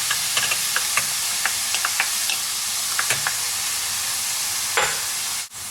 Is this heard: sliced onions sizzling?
yes